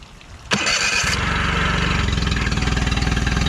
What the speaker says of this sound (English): All right, so the carb is on and I'm gonna attempt to start it and hopefully she starts right up.